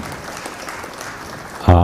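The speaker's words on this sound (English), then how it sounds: "let's show you what the full applause is like" Crowd applause played back in a commentary booth at a pool challenge match, a soft diffuse patter that stays low and even, then cuts off into a brief louder tonal blip at the end.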